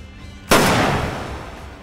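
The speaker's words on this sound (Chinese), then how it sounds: "这一枪是黄警官开的" A single sharp gunshot in a tense police standoff scene from a crime film, a sudden loud crack at about half a second that decays into a long echoing rumble, with no talk around it.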